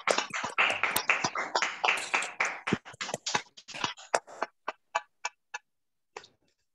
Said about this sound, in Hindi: एक बार जोरदार से ताली बजाएंगे